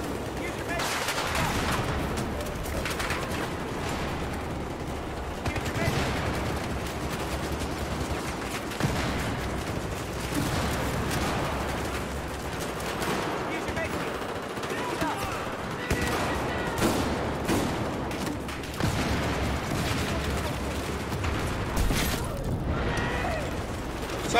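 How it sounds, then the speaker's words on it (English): Battlefield gameplay with grenade explosions and gunfire: rapid bursts of shots and crackling fusillades run continuously, with mechanical clatter and occasional heavier blasts, busy and loud throughout. "So many grenades!"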